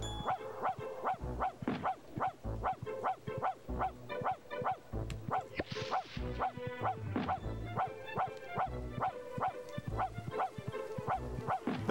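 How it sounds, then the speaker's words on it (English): A dog in the PS1 video game The Grinch barks over and over in a quick, regular rhythm, the repeated game barks loud and clear with only faint other sounds. "That's me making the dog bark, by the way."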